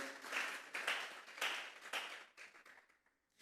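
A church congregation clapping together as an offering of praise to God, bursts of many hands rising and falling in waves, then thinning into scattered claps and fading out near the end.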